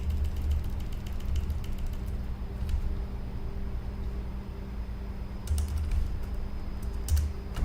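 Commands being typed on a computer keyboard during a static route configuration, a brisk run of clicking keystrokes close by with a few louder clustered taps and no voices.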